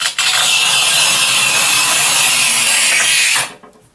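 A manual tile cutter scores a 1200 mm glazed tile with one continuous, loud rasping scrape lasting about three seconds, then stops abruptly, with no talk over it.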